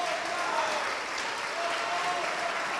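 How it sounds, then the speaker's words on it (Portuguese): A church congregation applauds, a steady wash of dense clapping heard throughout with some voices mixed into the crowd. "vamos aplaudir ao nome do Senhor"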